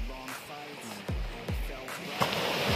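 Sea waves surge onto the shore at Mariveles, Bataan, in a rhythmic run of broad washes about every half second to second, close and fairly loud with wind, while people talk over them.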